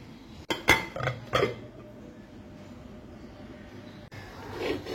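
A metal tawa pan is set onto a stovetop with a few quick clanks and clinks near the start, followed by quiet, faint background rustle.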